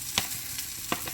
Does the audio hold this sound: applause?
no